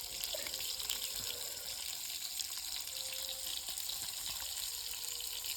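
Oil sizzles and spits in a wok over an open wood fire outdoors in the forest, a steady, fairly faint crackling hiss with no one speaking.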